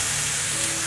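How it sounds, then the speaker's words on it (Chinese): Shiitake mushrooms stir-frying in a hot pan in a home vegan kitchen, a steady bright sizzle and hiss filling the short moment, close and loud with no voices. "继续翻炒，感觉香菇有炒软了"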